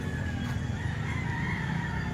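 A rooster crows amid steady crowd and market bustle at an outdoor Sunday chicken market by a grotto, its call blending into the dense background noise.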